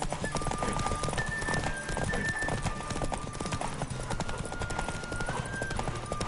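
Horse hooves clip-clop at a fast gallop through Witcher III, steady and close under a constant music bed, with an occasional whinny.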